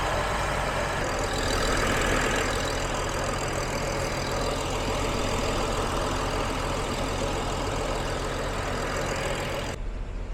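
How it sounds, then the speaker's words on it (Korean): A BMW X5 E70 petrol engine idles steadily after a stalling fault repair, a constant close rumble with no talk. "시동을 좀 걸어 놓고 지켜보도록 하겠습니다."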